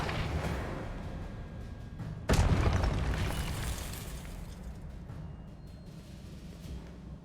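A Confringo blast spell goes off in the Hogwarts Legacy video game, a sudden loud boom followed by a rumbling, crackling tail that slowly fades under steady game ambience.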